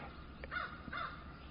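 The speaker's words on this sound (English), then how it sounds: "Oh, the crows are calling." Crows caw twice in the evening outdoors, two harsh calls at moderate distance over a low ambient background, with no talk.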